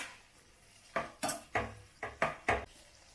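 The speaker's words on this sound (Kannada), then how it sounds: "ಚೆನ್ನಾಗಿ ಮಿಕ್ಸ್ ಆಗೋವರೆಗೂ ಕಲಿಸ್ರಿ ಇದನ್ನು" A spoon scrapes and knocks against a pan while bottle gourd fry with fresh coconut and coriander is mixed, giving about seven distinct clanks in an uneven rhythm after a quiet start, close and clear.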